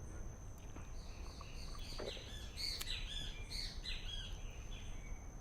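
A great kiskadee (bem-te-vi) calls a few times in quick succession, faint and somewhat distant, over a low steady background hum.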